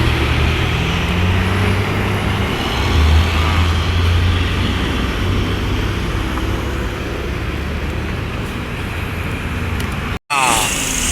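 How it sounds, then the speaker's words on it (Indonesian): A bus parade of Sumatra Barat buses on a road: a steady, loud engine roar carries through, with continuous traffic rumble and a brief cut near the end. "Kedatangan bus pertama ini."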